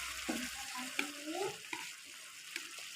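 Chicken meat stirred while it fries in a pan, a faint steady sizzle broken by soft scrapes and clinks of the utensil.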